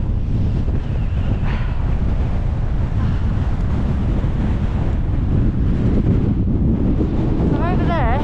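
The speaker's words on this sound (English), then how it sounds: "I hope you can hear me for this incessant wind." Strong, incessant wind roaring across an open fell summit in the Lake District, buffeting the microphone continuously and loudly throughout.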